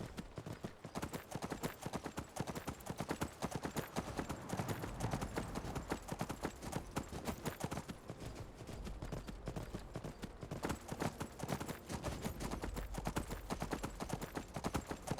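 A horse ridden in Skyrim clip-clops at a steady quick pace, a continuous close rhythm of hoofbeats with no talking.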